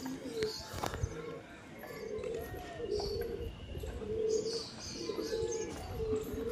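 Domestic pigeons kept in a farm loft coo softly and repeatedly, low rounded calls recurring through the clip alongside faint chirps and background rustle, with a voice speaking at times.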